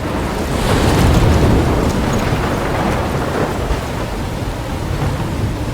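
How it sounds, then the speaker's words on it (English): A thunderstorm in Life is Strange, with heavy rain and rumbling thunder forming a loud, steady wash that swells early and stays constant throughout, without any voices. "I'm trapped in a storm?"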